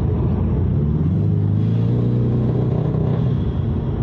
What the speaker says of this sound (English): it's breaking up really bad when I give it gas